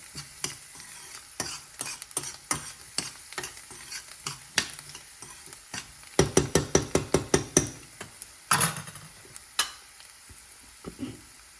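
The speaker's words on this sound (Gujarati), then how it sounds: "હવે એને તેલમાં સાતળવાનું છે।" Irregular utensil scrapes and knocks, with a quick burst of rapid stirring midway, over a low background sizzle of chopped garlic sautéing in oil.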